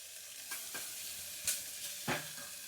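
Onions and long-cut vegetables frying in a pan for veg pulao, a steady close sizzle broken by a few louder scrapes and clinks of stirring.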